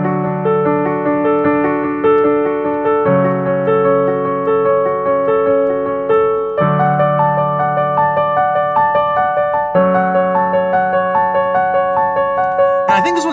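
The intro melody of a song plays on a piano-like instrument as sustained chords and a repeating melodic line, loud and clear, shifting chords about every three seconds with no talking.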